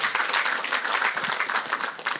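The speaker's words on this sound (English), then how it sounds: "Clap for Chibeka" Audience clapping at a political forum in Kenya's KANU Gardens, a moderate, uneven round of applause with scattered claps, fairly near and continuous for a couple of seconds.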